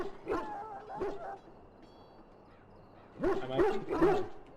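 A dog in the Dragon Age video game whimpers and yips in two short bursts of high, wavering whines, close and clear, separated by a quiet pause.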